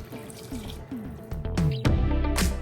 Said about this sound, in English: I'm going to add about 2 cups of water in here and rinse and pour it